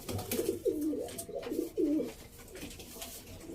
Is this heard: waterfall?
no